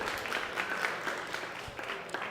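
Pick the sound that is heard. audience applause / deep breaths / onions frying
audience applause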